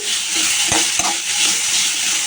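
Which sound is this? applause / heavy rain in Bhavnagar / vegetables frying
vegetables frying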